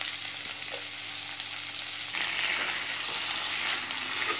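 Finely chopped tomato frying in a pan for a butter chicken fry, with a constant close sizzle that swells louder partway through as it is stirred.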